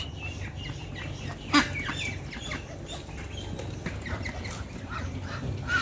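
Ducks being let out for feeding make quacking and clucking calls with a brief burst of wing flapping, moderately close, with faint poultry noise throughout and no talk.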